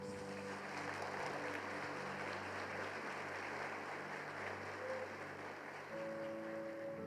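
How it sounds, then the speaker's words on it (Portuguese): Church congregation applauding God during a Portuguese-language service, a continuous, soft wash of clapping from a large room, heard at some distance with sustained musical tones underneath. "Vamos aplaudir a Deus."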